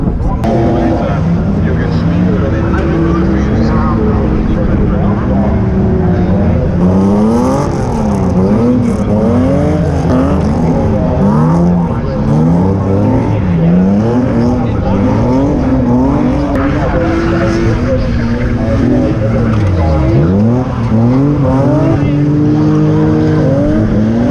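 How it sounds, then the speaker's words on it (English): BMW cars drifting at a dirt racing event roar continuously, their engines revving up and down in wavering sweeps, loud and close throughout. "they have a bit of a BMW event at the moment, and they're doing some drifting"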